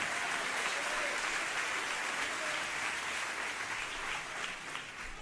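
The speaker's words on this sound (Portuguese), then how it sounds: "se for para aplaudir Jesus, aplaude com força." A church congregation applauding a sermon about Jesus, a steady, dense wash of clapping held at an even level throughout, slightly easing near the end, with no voices over it.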